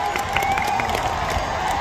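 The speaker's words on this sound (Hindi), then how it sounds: "अरे कम से कम ताली बजा दो" Crowd at an Indian wrestling dangal claps and cheers steadily throughout, a dense, continuous wash of applause with some shouting mixed in.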